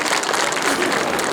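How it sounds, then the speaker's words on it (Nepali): A crowd at an opening ceremony claps steadily and densely, a continuous close wash of many hands with no pause, and voices faintly mixed in. "सबैजनालाई यो उद्घाटन भइरहेको अवस्थामा सबैजनालाई ताली बजाइदिनको लागि म हार्दिक अनुरोध गर्दछु।"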